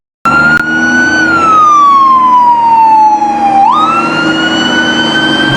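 A toy fire truck with a ladder sounds its siren loud and close: one long electronic wail that glides slowly down, then jumps back up and holds steady for several seconds.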